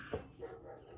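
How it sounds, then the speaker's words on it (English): A dog indoors gives a couple of short, faint yips or barks, quick and muffled against low background noise. "my dog just got home"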